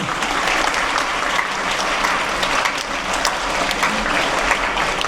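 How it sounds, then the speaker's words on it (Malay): A large audience at a Malaysian education ministry event applauds the organisers with dense, loud, continuous clapping that holds steady from start to finish, without talk above it. "Kita bagi tepukan kepada pihak penganjur."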